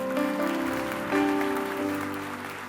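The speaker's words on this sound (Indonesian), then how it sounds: "Kasih tepuk tangan untuk Tuhan." A church congregation applauding during a worship service, soft scattered clapping beneath lingering musical tones from an instrument, fairly faint and gradually fading.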